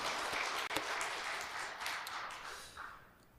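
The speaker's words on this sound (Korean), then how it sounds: "박수로 인사하시겠습니다" A church congregation at a Sunday service applauds, a moderately distant, roomy wash of clapping that swells at first and then gradually fades away.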